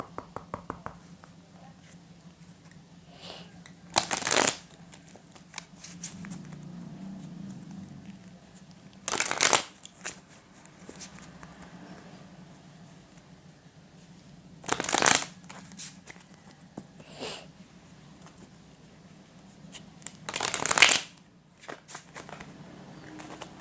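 Tarot cards shuffled in four distinct bursts spaced about five seconds apart, each a brief crisp riffle with quiet room tone between.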